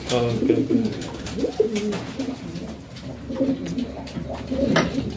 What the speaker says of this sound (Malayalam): ഈയൊരു പ്രാവും ഈ ഒരു പ്രാവും ഈ ഒരു പ്രാവും